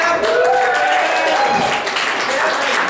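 Sustained applause from a live improv comedy audience welcoming a guest onstage, a steady wash of clapping with a few voices mixed in.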